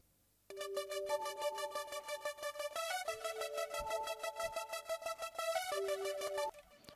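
A soft synth arpeggio layered with sequenced parts, rapid repeating bright notes in a steady pattern that shifts pitch a few times, moderately quiet with no voices.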